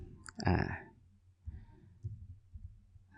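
A few sharp, quiet clicks of a computer mouse, a cluster around the first half-second and scattered lighter ones after, with a faint low murmur underneath and no clear speech.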